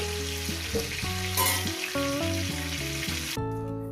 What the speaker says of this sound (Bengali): ওই তেলের মধ্যে দিয়ে দেবো একটু তেজপাতা একটু জিরে পুরো দিয়ে দিলাম কয়েক সেকেন্ড ভেজে নেব